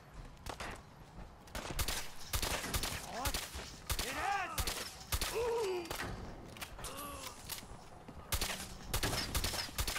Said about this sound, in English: Come on, hold still, I'm shooting off your legs.